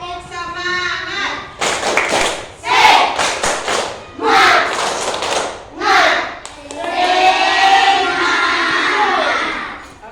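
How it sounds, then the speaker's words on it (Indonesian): A school class performs a rhythmic spirit clap, with bursts of clapping and thumps alternating with children chanting and shouting together, loud and close, ending in a longer group cheer. "Oke, kita mulai tepuk semangat. 1, 2, 3, tepuk semangat."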